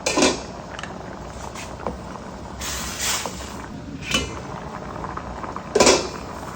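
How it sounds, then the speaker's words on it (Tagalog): Sticky rice champorado stirred in a pot, a spoon scraping and clinking against the metal in irregular knocks, with louder clanks at the start and end and no talking. "Haluin ulit natin para hindi dumikit."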